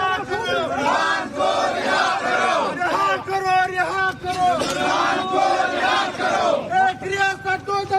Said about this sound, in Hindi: ये प्रदर्शनकारियों की भीड़ है जिनकी मांग है कि इमरान का ट्रीटमेंट हो